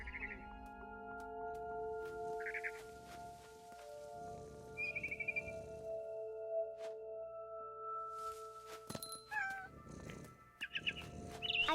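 A cat meowing and purring in the video game What Remains of Edith Finch, short mews scattered over a soft ambient game background, with brief chirps and light rustles, fairly quiet and close.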